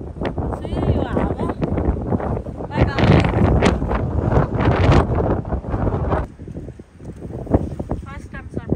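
Strong gusts buffet the microphone at Wedding Cake Rock, a coastal cliff in Australia, roaring loudly and steadily throughout while people talk over it, easing slightly near the end.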